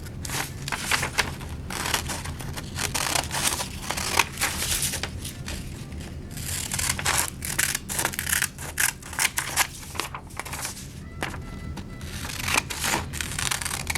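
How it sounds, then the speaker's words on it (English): Scissors cutting paper for a children's craft, repeated crisp snips and crunchy cuts in an irregular rhythm, close and fairly quiet, with no talking. "You can cut the black line off. You can cut inside it, whatever you so choose."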